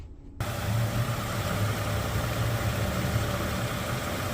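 A 2009 Toyota Camry V6 idles in park, giving a steady, even engine hum and low drone that holds without change after a brief quiet start.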